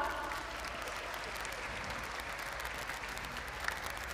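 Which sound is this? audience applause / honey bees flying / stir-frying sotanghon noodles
audience applause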